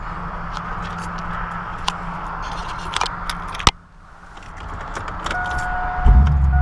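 Keys jingle close by for a few seconds, then a car door thuds shut, followed by a car engine starting and idling steadily as the vehicle gets under way, with no voices.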